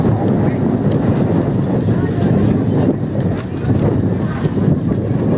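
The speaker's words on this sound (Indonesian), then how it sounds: "Anginnya gede banget." Strong wind buffets the microphone outdoors at a landslide search site in Cisarua, Bandung, producing a steady, loud low rumble and roar throughout with no pauses.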